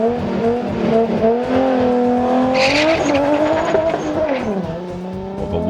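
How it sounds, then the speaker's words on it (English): Manny's Toyota Supra launches hard at a street race, tires squealing as the engine screams and climbs through smooth gear shifts, loud and close with no talking. "Well, the launch doesn't look good, but the shifts are smooth."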